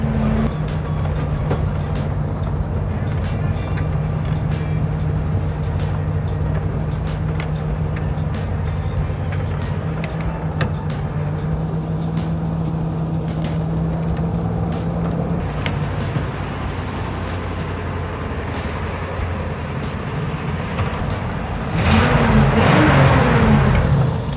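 A 1969 Ford Bronco engine running at a steady high idle, a loud continuous drone that holds throughout and swells into a brief louder rev near the end, with no talking.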